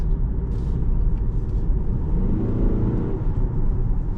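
A 2026 Toyota RAV4 engine in sport mode hums with a steady, throaty low rumble, holding a fairly constant pitch with slight swells, close and continuous throughout.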